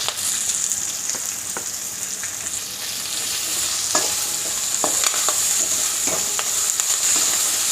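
Curry leaves and mint frying and stirred in a pan for veg pulao, a steady bright sizzle throughout with scattered ticks and scrapes of the spoon, close and fairly loud, no talking.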